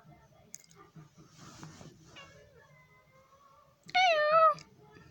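A pet cat wrapped up like a burrito gives one short, clear meow near the end, after soft rustling and faint background sounds.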